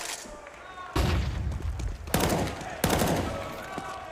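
Pistols fire in the Counter-Strike video game, with three sharp shots spaced about a second apart over steady background noise and commentary.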